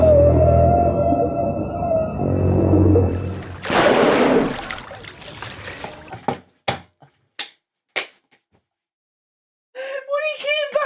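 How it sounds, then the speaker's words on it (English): Whale vocalizations, including blowhole sounds, playing from a television scene during a reaction broadcast, heard as short separate bursts after a stretch of noisy background and ending in a series of rising, rhythmic calls. "The whale sounds are back!"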